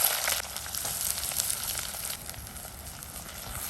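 Onions frying in coconut oil for chicken liver pepper, a steady close crackling sizzle that runs continuously without a break, with no voices over it.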